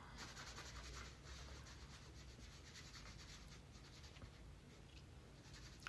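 Steady scratchy rubbing of a colored pencil on paper, close and continuous, with rhythmic back-and-forth strokes and no voices.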